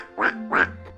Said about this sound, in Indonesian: Salah lagi. Itu bebek.